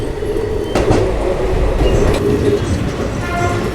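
The Nagarsol Chennai Express runs on rails with a steady loud rumble and rhythmic clatter of carriage wheels, heard from inside the moving train, with faint high squeals now and then.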